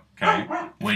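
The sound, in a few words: dog barking in the background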